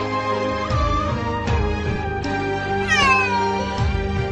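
A cat trapped inside a house meows loudly and repeatedly, with several drawn-out, plaintive cries and a rising, wailing call partway through, heard close and clear without talk.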